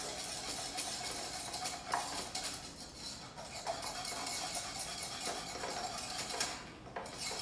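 A whisk keeps moving steadily through a thickening starch mixture in a pot for a strawberry shortcake recipe, a soft continuous scraping and swishing at moderate, even level with no voices.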